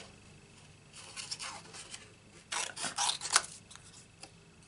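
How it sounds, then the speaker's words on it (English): Scissors snipping through cardstock paper during a Stampin' Up papercraft project, a few short dry rasping cuts in quick bursts, close and fairly quiet, with no talking. "if you're cutting, move your paper, not your scissors."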